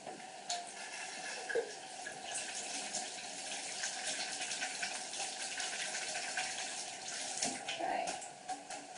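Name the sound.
washing hands with water at a sink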